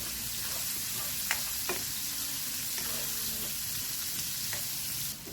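Onions fry in a pan for ginataang gabi, giving a steady close sizzle with a few sharp clinks and scrapes of stirring.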